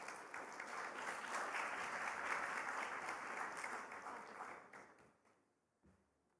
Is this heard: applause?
yes